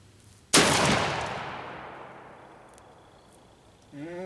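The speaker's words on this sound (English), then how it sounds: "So I already have the safety off, so all I have to do now is pull the trigger." A single loud, close blast from a Knight TK 2000 shotgun, its sharp report decaying into a long fading echo, followed by a faint voice starting at the very end.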